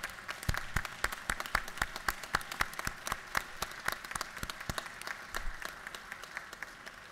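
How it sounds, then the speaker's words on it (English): A gallery audience gives a round of applause for visiting fraternity members, with steady, dense clapping at moderate distance that holds throughout and eases slightly near the end. "colleagues, if you can give them a round of applause for"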